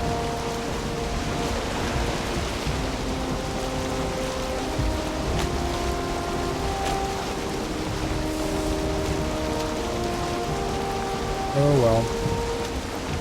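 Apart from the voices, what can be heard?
rain storm while sailing in the video game Valheim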